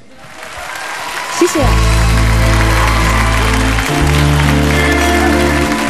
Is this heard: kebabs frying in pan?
no